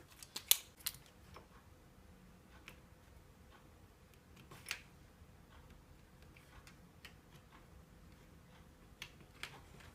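Small snipping cuts trim a plastic brake piece for a Tamiya Mini 4WD car. Sparse, crisp clicks come close and fairly faint over quiet background, with a cluster of sharper snips early on.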